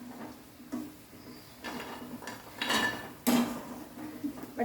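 Fried snacks are scooped out of a pan, with scattered metallic scrapes and clinks of a utensil against the vessel, the loudest knock near the end, heard without talk.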